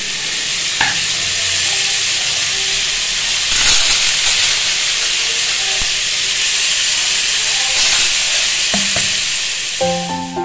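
Aloo posto, potato and poppy seed, cooks in a pan with a steady frying hiss and sizzle; occasional stirring scrapes break through, and a brief steam-like surge rises around the middle, all close and without talk.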